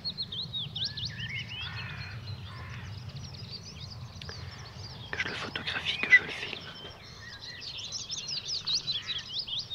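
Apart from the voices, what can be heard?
birds chirping outdoors near flowering trees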